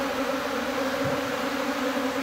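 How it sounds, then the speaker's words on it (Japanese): A swarm of Japanese honeybees hums in a steady, moderately loud drone that holds without pause, with no talking over it. "これはもう完全に分蜂なので、この蜂たちがどこに蜂球を作るかですね。"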